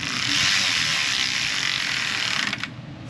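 Ratchet tightening a small plastic threaded bolt, a rapid continuous ratcheting buzz of fine clicks close by, easing off into a few separate clicks at the end.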